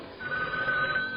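A telephone rings once in a sustained electronic trill, near and clear, with no talking over it.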